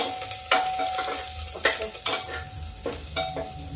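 Garlic sizzling in hot oil in a pan over high heat, with a steady crackling fry broken by several sharp scrapes and clinks of a spoon stirring.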